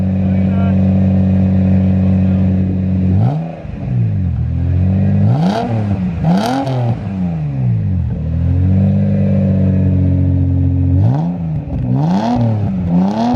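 A Lexus SC300 engine with a straight-piped exhaust idles loud and raspy, then revs sharply several times in quick bursts, each rev rising and falling before settling back to a rumbling idle.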